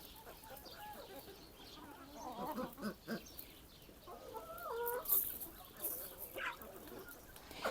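Naked neck chickens clucking and calling intermittently in an open farmyard, moderately close, with some background rustle and a sharp high call near the middle.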